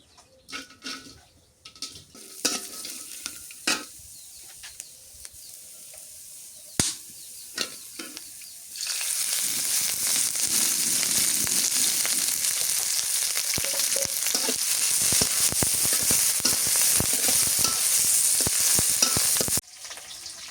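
Onion and green chili fry and get stirred in a pan for a home-style cabbage curry, starting with scattered clinks and scrapes, then a loud steady sizzle that fills the second half with stirring ticks through it.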